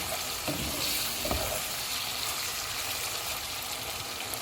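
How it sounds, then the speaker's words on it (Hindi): Tender mutton pieces cook on a full flame until the liquid dries off, giving a constant, even hiss and sizzle with faint bubbling. There is no talk, and the sound holds at a steady moderate level. "अब हम चूल्हे को फुल कर देते हैं और इसको ड्राई होने तक पकाएंगे।"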